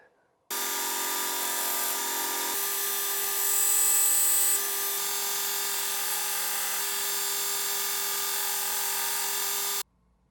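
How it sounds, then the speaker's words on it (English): A Buck Bros. 3-inch block plane blade is sharpened with a powered tool, a steady loud whine that runs unbroken for about nine seconds, then cuts off abruptly. "Next up, I'm going to sharpen the blade."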